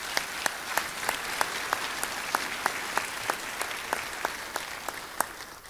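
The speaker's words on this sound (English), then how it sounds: "Can we give them a round of applause as well?" Audience at an employee award ceremony in Bremerton applauding the presenters, a steady spread of clapping from a modest crowd with a few sharp, regularly spaced claps standing out close by.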